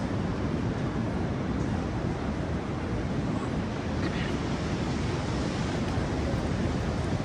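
Waves wash steadily at Cathedral Cave in the Catlins, a continuous dense roar of surf mixed with wind noise on the microphone, with no clear breaks.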